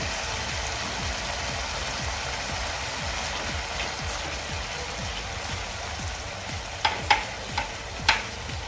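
Tomato paste is stirred into a sizzling pan of onion masala for Amritsari chole. A loud, continuous fry hiss runs under repeated stirring, and a few sharp spatula scrapes come near the end.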